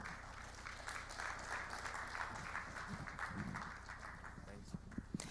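Audience applause at a journalism innovation and development event, steady broadband clapping lasting several seconds at moderate level with crowd murmur and a few sharper claps near the end.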